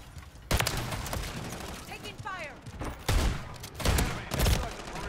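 Gunfire from the Lockwood 680 in Call of Duty MW3, with several loud, sharp reports in quick bursts and voices speaking between the shots.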